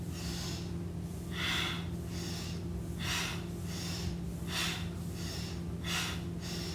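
Deep, forceful breaths in a cleansing breath exercise, each inhale and exhale a clear rush of air. They come in a steady rhythm about every second and a half, close to the microphone, over a low constant hum.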